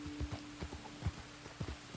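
Horse hooves clip-clop in the video game Red Dead Redemption 2 as the horse moves up a narrow path in a quick, steady four-beat rhythm, close and clear with no talking.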